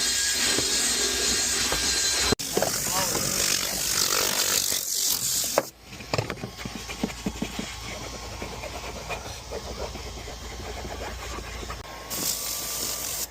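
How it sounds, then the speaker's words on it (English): A loud drill brush whirs close by, cutting off abruptly, then continues as a rougher, pulsing scrubbing buzz with uneven bursts while cleaning a small car's interior. "Hit this with the drill brush just to dislodge everything."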